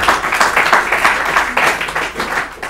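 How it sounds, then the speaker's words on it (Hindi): An audience at an Urdu literary quiz programme claps for a correct answer, a dense burst of applause lasting throughout, close and fairly loud. "ताली बजाइए इनके लिए"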